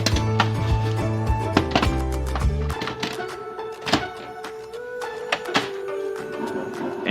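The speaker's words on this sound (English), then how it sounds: "And wait for the printer initializing until the display shows ready." The front door of an HP LaserJet Pro M402dn printer shuts with a couple of heavy plastic thunks, then the printer initializes with a steady run of mechanical clicks, taps and whirring, close and moderately loud.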